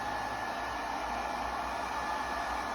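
A hair dryer blows continuously, a steady loud rushing whoosh with a low motor hum and no change across the whole stretch.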